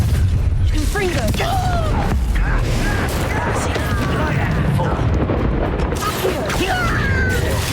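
Fiery Confringo spell blasts crackle and roar through a Hogwarts Legacy fight, with dense, continuous bursts of loud combat noise and voices over them.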